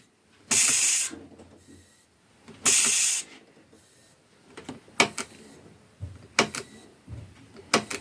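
A pneumatic air seat from a Mercedes truck (Actros, Atego, Axor) adjusting its height: two long bursts of air hiss, then a series of shorter clicks and puffs, close and clear with no talk.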